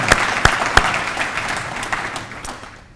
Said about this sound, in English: Can we get a grand applause for them real quick?